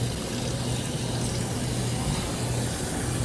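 Steady rush of running or poured water, continuous and close with no pauses.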